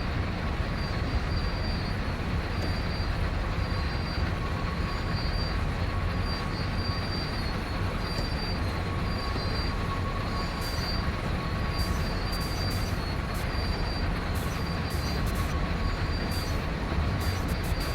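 A simulated train in Train Sim World 2 rumbles steadily as it gathers speed on flat track, a continuous low roar of wheels and cars with faint high squeals, no voices.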